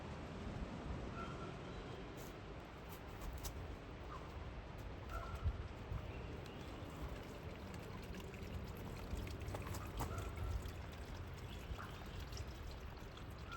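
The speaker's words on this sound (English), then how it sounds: "we're offloading some water, transferring it from my neighbor's house. Here we go, filling our pits up" Water pours steadily from a transfer line into drilling pits dug for a DIY water well, a continuous rushing and splashing that runs unbroken throughout, with no voices.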